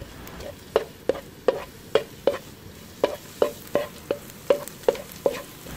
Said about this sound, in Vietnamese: Bật lửa lớn, phi thơm lên.